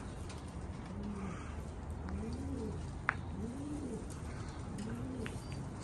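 Pigeons coo in a loft, with soft, repeated rolling calls close by over a steady background hum and a single sharp click partway through.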